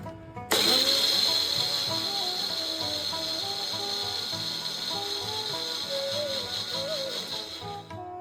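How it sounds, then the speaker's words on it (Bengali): Soaked poppy seeds are ground in an electric mixer grinder, which whirs loud and steady after a sudden start, with a high motor whine and a rough churning underneath. "আমি আগে থেকেই পোস্ত ভিজিয়ে রেখেছি, এবার এটাকে বেটে নেব।"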